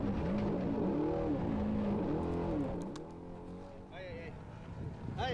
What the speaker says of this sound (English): All right, next car flying off the start here.